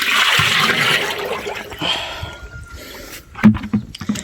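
Liquid organic fertilizer mixture for chili plants is stirred in a container, giving close sloshing and swirling water with gurgles and a few splashy knocks toward the end.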